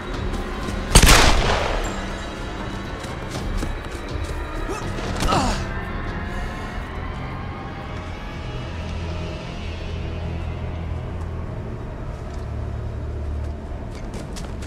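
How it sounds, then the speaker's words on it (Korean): Gunfire in the video game Tomb Raider 2013: a sharp loud shot near the start followed by a second, fainter report a few seconds later, trailing into a low ambient rumble. "총소리라니."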